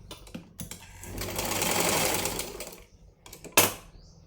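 A sewing machine runs in one continuous stitching burst on a lined blouse, swelling to a steady whir near the middle and then stopping, followed by a few brief clicks and fabric handling sounds nearby.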